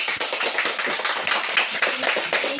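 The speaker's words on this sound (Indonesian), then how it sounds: "Tepuk tangan dulu untuk kita semua ya." Classroom of pupils clapping hands together at the end of a lesson, a dense, close burst of rapid claps that holds steady for a few seconds with no talking over it.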